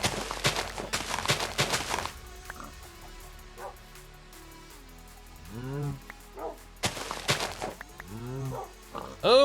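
Cow mooing in Sky Factory 4, a Minecraft modpack, with a few drawn-out, close, rising-and-falling moos after bursts of clattering noise and scattered short chirpy calls.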